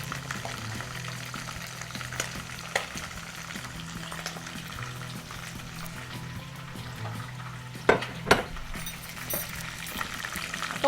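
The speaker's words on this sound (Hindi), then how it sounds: "थोड़े से इसमें चटर पटर टाइप का होता है ये, लेकिन इसको फ्राई करना है तो आप इसी तरह करेंगे" Green chilies fry in a pan of oil with a steady, close sizzle and soft crackle throughout, plus a few sharper pops and clatters near the end.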